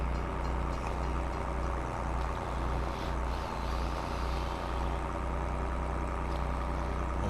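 A steady, heavy tractor engine in Farming Simulator 22 drones at a constant low rumble throughout, idling loud and close with no voices.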